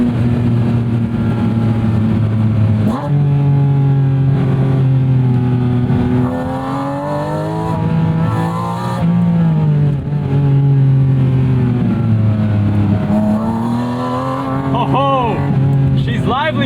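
A Porsche 718 Spyder's engine blips and swells on a street drive, pitch dropping and rising through a series of downshifts, loud and close from inside the car, with occasional voices.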